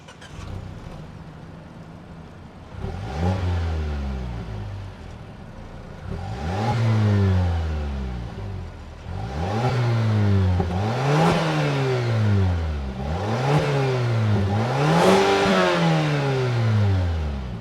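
A 2025 Mazda CX-5 with its 2.5-liter turbocharged four-cylinder engine revving repeatedly from idle, about six rising-and-falling rev sweeps that grow stronger and closer together, loud and close with no talking.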